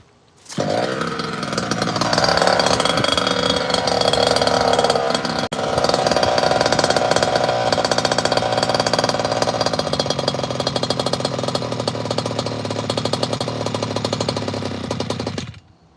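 A goped's two-stroke engine with an Expedition Series One pipe buzzes loud and raspy, starting abruptly and holding a harsh, high whine for about fifteen seconds before cutting off.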